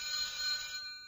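A telephone rings with a bright, steady electronic trill for about a second, close and clear, then cuts off and fades into quiet.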